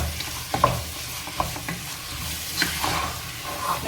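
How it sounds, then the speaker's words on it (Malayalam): A spoon stirs a Kerala chicken roast curry frying in coconut oil in a pan, soft scraping strokes at an irregular rhythm over a steady close sizzle, with no talking. "ഇങ്ങനെ ഇളക്കി കൊടുക്കാം."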